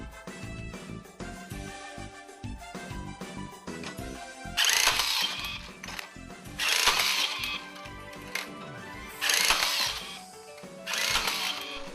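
A Max automatic rebar tying tool runs in repeated short bursts, with whirring motor and clicking mechanism bursts alternating with quieter handling sounds, loud and close.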